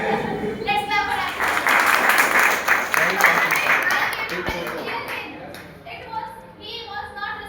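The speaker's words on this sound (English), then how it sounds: "Let's clap for him." Audience clapping at a school graduation ceremony, a sustained, loud, dense patter of many hands filling the room and slowly tapering off, with voices and chatter mixed in underneath.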